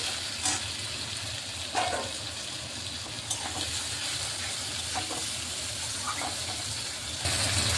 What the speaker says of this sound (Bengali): আবার টমেটোটাকে ভালোভাবে ভেজে নিচ্ছি